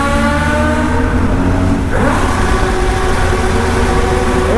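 Motorcycles rev their engines ahead in city traffic on a seaside road in Rio de Janeiro, heard from a BMW 1200 ride; loud, continuous engine drone with rising and falling revs throughout.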